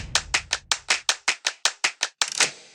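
Eleven sharp, evenly spaced hand claps in quick succession, close and crisp, each one ringing briefly before the next, the last two slightly louder and messier.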